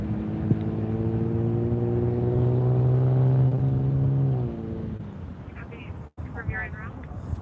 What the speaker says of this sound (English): No, that was a car that went by